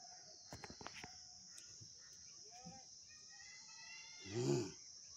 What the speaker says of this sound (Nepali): क्या बाघ घुर्दिया कि